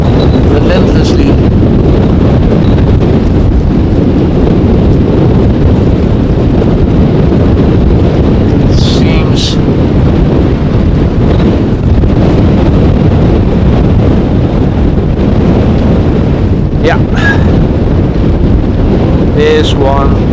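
Strong storm wind roars steadily and loudly across an airport during the first storm of 2023, buffeting the microphone with a dense, unbroken rumble, while a few faint higher sounds flicker briefly through it.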